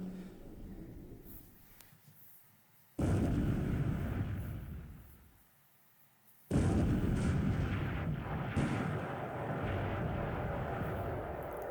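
Naval gunfire in the Pacific war game, heavy battleship shells booming out and striking armor, with two loud sustained bursts of roaring blasts separated by a brief lull.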